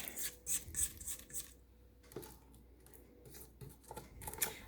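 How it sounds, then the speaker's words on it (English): A spatula scrapes down the sides of a mixing bowl of blueberry coffee cake batter with the mixer stopped, giving several short, close rubbing and scraping strokes in irregular bursts with brief pauses. "Just going to give my bowl a scrape down here so I can get everything incorporated."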